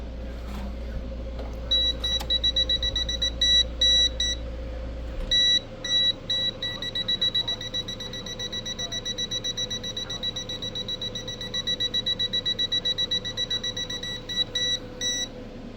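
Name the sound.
multimeter beeping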